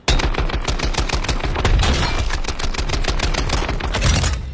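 Rapid gunfire from a weapon in the Warzone shooter game, a loud, dense burst of evenly spaced shots running continuously for several seconds, close and sharp with no talk over it.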